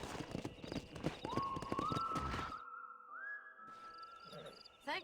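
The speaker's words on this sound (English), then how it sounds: "We got some fine horses." Horse hooves clip-clopping on the ground in Red Dead Redemption, quick steady beats that stop partway, mixed with a sustained whistled tone and faint movement.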